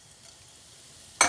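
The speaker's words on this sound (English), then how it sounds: "Then I'm going to add 1 teaspoon of cumin seed." One teaspoon of cumin seeds dropped into warm vegetable oil, giving a soft, steady low hiss that breaks into a sudden loud, bright sizzle right at the end.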